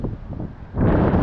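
Gusty wind buffets the microphone on a cold late-November outdoor walk in Lewiston, Maine, a steady roar that surges louder partway through.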